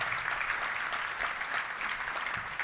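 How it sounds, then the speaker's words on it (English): An audience at a Little Rock touchdown club luncheon gives a round of applause for the event volunteers. The clapping is continuous and dense but fairly distant and soft, with no speech over it. "let's give our volunteers, led by Debbie Wyman, a big round of applause"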